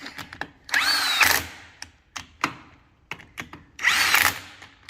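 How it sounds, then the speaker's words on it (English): A power tool undoes Loctited bolts on a VE Holden differential with a helical gear LSD, sounding as short whirring bursts and sharp clacks with two longer high-pitched spin-ups, close by and with no talk. "Got to undo all these Loctite in bolts and go over someone else's mistakes."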